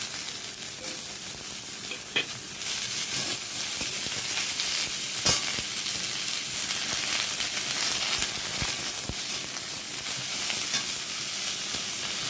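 Chopped raw pumpkin added to a pan where soybean chunks have just been fried, giving a steady, even sizzle and hiss that carries on throughout with no talking.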